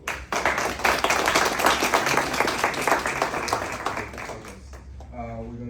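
Audience applause at a San Francisco African American Chamber of Commerce business conference: a room of people clapping steadily and fairly loudly, tapering toward the end with a faint voice or tone emerging.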